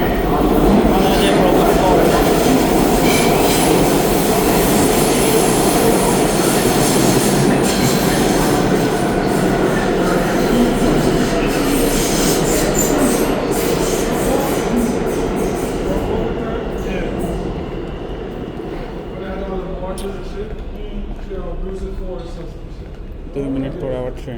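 A New York subway train runs through a station with a loud, sustained rumble, rattling wheels and metallic squeals that slowly fade. Voices are audible over the noise.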